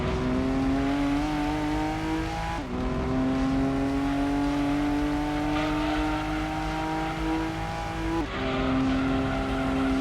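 A race car from Gran Turismo 2 on the PlayStation roars at a steady high drone while it runs across gravel at Grand Valley Speedway. The engine pitch drops briefly twice, at gear changes or lifts, under constant loud noise with no talk.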